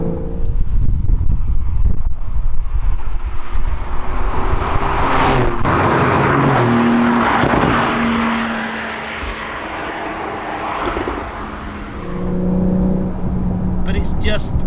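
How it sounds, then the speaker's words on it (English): A Porsche 911 992 Sport Classic cruises under a steady exhaust drone, letting out a couple of sharp pops and crackles on overrun as the engine note falls, then picks up again. "You can just hear the exhaust popping a little bit there on overrun"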